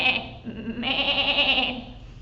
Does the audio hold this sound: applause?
no